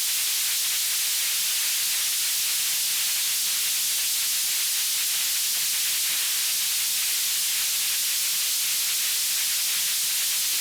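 Synthesizer noise with sample-and-hold pitch modulation and reverb, shaped to imitate weather: a steady, dense, loud hiss, like rushing steam or static, that holds without pause throughout, with only slight wavering texture.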